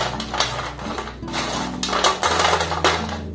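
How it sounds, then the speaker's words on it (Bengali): Crunchy fried madan bhaja being handled makes brittle crackling and clattering clinks, repeated and close, over a low steady hum throughout. "আওয়াজটা শুনে বুঝতে পারছেন কত মুচমুচে হয়েছে"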